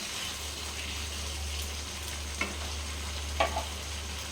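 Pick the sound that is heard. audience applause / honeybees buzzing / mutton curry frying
mutton curry frying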